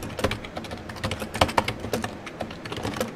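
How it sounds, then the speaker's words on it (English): Rough, clacky computer keyboard typing up close, a rapid uneven run of sharp keystrokes with a few harder hits, heard alone without talk. "Listen to those rough clacks of the keyboard"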